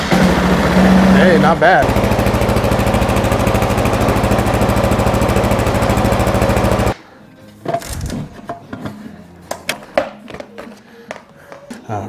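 A Kawasaki KLR650 fitted with a Leo Vince X3 exhaust cold starts after sitting unused for a while. The single-cylinder engine runs with a loud, close, rapid thumping idle for about seven seconds, then cuts off. A brief spoken remark and scattered clicks and handling noises follow.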